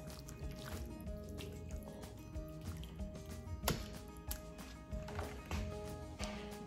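Clean hands rub a wet coating over a pork butt for crockpot pulled pork, giving close, soft squelching and smearing with small wet slaps under a steady background hum.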